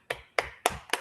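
Four separate, sharp claps or taps spaced evenly apart, close and fairly faint, each ending quickly, from an online audience applauding a speaker on a video call.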